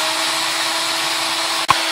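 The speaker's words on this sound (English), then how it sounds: "This tail is a little bit tough, so I'm going to drill a hole into it." Steady close whine of a power drill boring a hole into a tough guitar tail, running continuously with one brief knock near the end.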